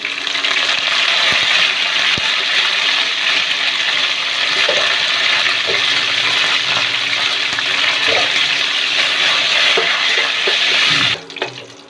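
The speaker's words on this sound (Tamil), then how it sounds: "ஆயில் நல்லா காஞ்சிட்டு இருக்கு. இப்போ கடுகு சேர்த்துடலாம். கொஞ்சம் ஜீரகம், ஒரு கொத்து கருவேப்பிலை" Mustard seeds, cumin and curry leaves sizzle in hot oil for avial tempering, a loud continuous hiss with occasional small pops and crackles, ending abruptly.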